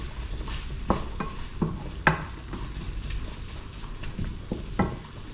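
Carrots fry in a pan while a utensil stirs them, with soft scraping knocks against the pan at irregular intervals over a low, steady sizzle, close up and without talk.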